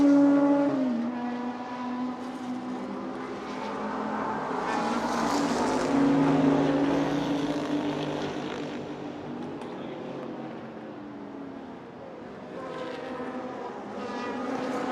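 Vintage race cars at speed during a live Monterey Motorsports Reunion race broadcast, a sustained loud engine roar with rising and falling pitch as cars pass and accelerate, continuous throughout.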